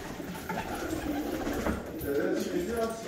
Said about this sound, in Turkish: Hem de kuşlarımıza yem veriyoruz.